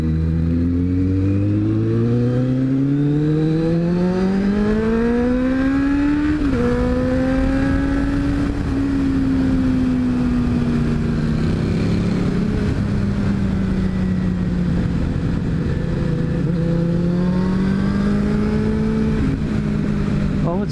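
Ducati motorcycle riding along the seaside, its engine rising steadily through the gears with a brief shift, loud and close with wind rush throughout.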